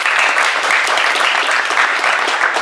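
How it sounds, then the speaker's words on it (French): Loud, close applause for the players at a Paris amateur football tournament, a dense continuous patter of many hands clapping at full strength throughout. "on peut les applaudir"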